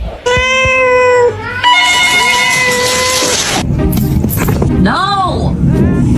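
A house cat meows loudly and close by in several drawn-out, wavering calls, with people talking and exclaiming around it in a room.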